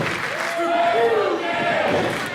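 A wrestling crowd at an indoor CTWE event cheers and chants loudly and continuously, with voices rising together over steady arena noise.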